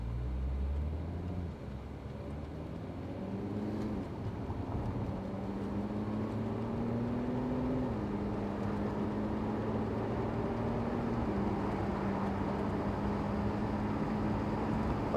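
A 2004 Audi TT pulls away from a stop, its engine note steadily rising and shifting through gears, close and continuous with no talking.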